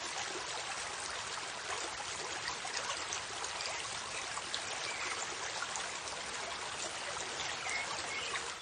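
River water flowing steadily, a continuous close rushing and trickling wash with no pauses or other sounds.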